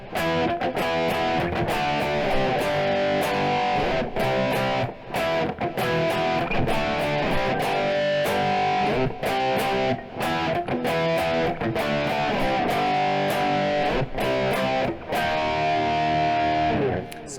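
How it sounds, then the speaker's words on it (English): Electric guitar power chords played through an overdrive or distortion pedal, loud, thick and sustained, in a rhythmic strummed pattern with brief gaps between chord hits. "of course you want to turn on some overdrive or distortion pedal"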